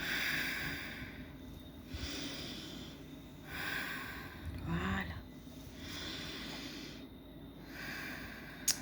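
Slow, deep breathing during a guided relaxation session, several long audible inhales and exhales in a regular rhythm, faint and close, with a brief spoken word near the end.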